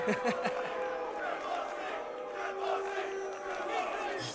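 A crowd at a UFC pre-fight press conference boos loudly and continuously, a dense wall of jeering voices with shouts mixed in, filling the room for several seconds.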